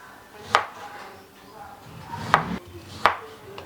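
Knife chopping food on a board in a home kitchen, three sharp separate chops spaced unevenly, close and clear over a quiet room with faint background voices.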